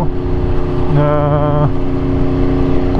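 Aprilia RSV4 motorcycle engine droning steadily while riding, a continuous harmonic hum with a brief higher-pitched rise midway, loud and close throughout.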